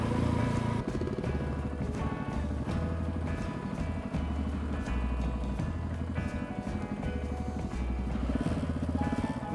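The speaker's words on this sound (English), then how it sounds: "big old thumper, you put her down in low gear and she definitely helps you out" A KTM 690 big single-cylinder thumper lugs along in low gear through trees on Malcolm Island, its close, steady, loping exhaust beat throbbing continuously with a mild rise and fall in load.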